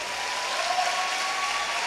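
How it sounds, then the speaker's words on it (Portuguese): Audience applause at the Comic 2018 event, honoring the UMIC group: a steady, dense wash of clapping that holds evenly throughout, fairly distant, with no voices over it. "Uma salva de palmas para a UMIC."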